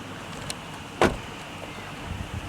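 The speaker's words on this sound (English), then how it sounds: "close the door" A car door shuts once with a single sharp, fairly loud thump in a quiet outdoor setting, preceded by a faint click, during a formal etiquette demonstration of helping a partner out of a car.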